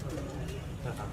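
Pigeons cooing on a rooftop during a pigeon-flying gathering, a low soft cooing under steady talk and background chatter.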